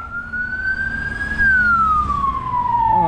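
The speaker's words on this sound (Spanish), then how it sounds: "Una ambulancia." A single emergency siren wails nearby, its pitch rising slowly and then gliding down, with traffic rumbling underneath.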